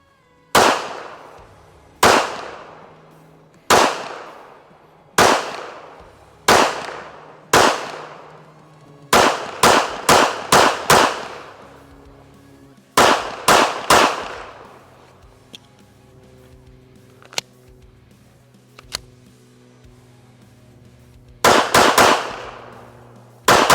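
Sharp, loud gunshots from a Walther WMP .22 Magnum pistol fired outdoors, arriving singly and in quick clusters of two to four, each with a short ringing tail and quiet gaps between strings.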